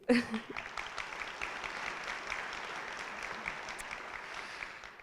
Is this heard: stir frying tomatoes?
no